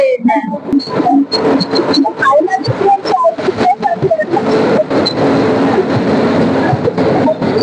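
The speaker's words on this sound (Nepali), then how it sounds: "ट्रेन चाहिँ फाइनली आइपुग्यो। यो ट्रेन अहिले आउँदैछ।" A train rumbles in at night and rolls to a stop at a station amid a busy, noisy crowd, with people talking and calling out over the steady mechanical roar.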